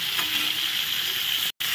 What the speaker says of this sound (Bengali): পটল আলু ভাজা হয়ে গেছে